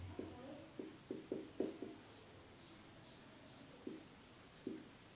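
Marker or chalk strokes on a board come in a quick run of soft taps and scratches, then two isolated strokes after a pause, quiet and close in a classroom setting.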